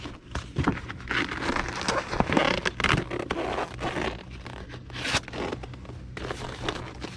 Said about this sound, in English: we'll just slide this right into the flat rate legal envelope